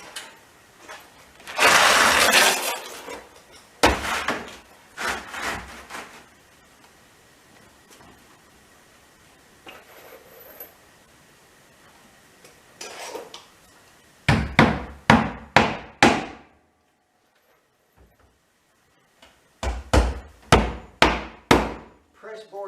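Nails are hammered into pressboard for a chicken coop roof: several clusters of sharp, ringing blows come in quick rhythmic runs of four to six strikes, with pauses and a few quieter taps between.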